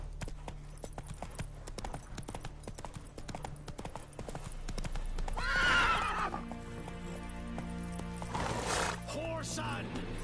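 Hooves of the horse Roach clip-clop at a rapid gallop in The Witcher 3, a steady close drumming with a neigh midway and another whinny near the end, under game music and a voice.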